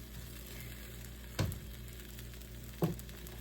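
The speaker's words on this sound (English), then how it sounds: "Some sizzling of apples going on." Steady, quiet sizzling of apples frying in a pan, with two soft knocks or stirs breaking through the continuous hiss.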